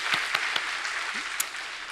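Church congregation applauding during a Sunday anniversary worship service, a brief two-second stretch of steady, fairly faint clapping from a crowd with a few sharper individual claps.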